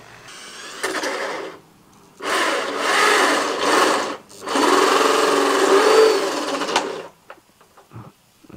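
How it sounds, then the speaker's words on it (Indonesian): A power drill with a 55 mm hole saw grinds through a hydroponic pipe in three sustained bursts, separated by brief pauses and ending with a few short clicks. "ada hole saw yang 55 mm dengan mata bor, lalu pakai bor."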